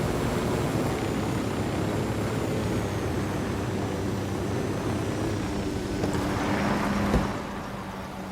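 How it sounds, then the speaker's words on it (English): Helicopter approaching in the video game Ghost Recon Wildlands, a steady loud rotor and engine drone filling the scene with a thin whine, swelling slightly before a brief thump near the end. "Chopper incoming."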